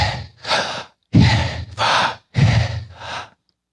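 A voice imitates breathing, likened to the divine name Yahweh, with three pairs of audible inhale and exhale breaths, close and fairly loud, separated by short silences.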